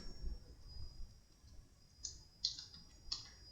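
Keys on a computer keyboard click in a few sparse, soft taps at close range, spaced irregularly over a quiet background.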